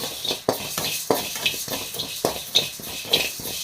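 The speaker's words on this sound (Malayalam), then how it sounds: "ഇളക്കി കൊടുക്കാം" Raw rice being dry-roasted and stirred in a pan, with a repeated scraping and rattling as the spoon sweeps through the grains in a steady rhythm, close and moderately loud, no voices.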